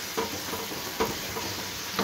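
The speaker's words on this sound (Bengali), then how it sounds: "ভালো করে এখন কষিয়ে নিচ্ছি।" Masala with onion and garlic being sautéed and stirred in a pan, giving a soft, steady sizzle with a few scraping stir strokes spaced through the short stretch.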